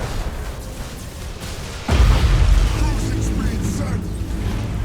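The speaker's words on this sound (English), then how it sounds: "A plasma bomb or a Nova cannon, I'm not sure which one that was." A Nova cannon or plasma bomb strikes ships in the space battle game Battlefleet Gothic Armada 2, a sudden loud boom that rolls into a sustained rumbling roar over steady game noise.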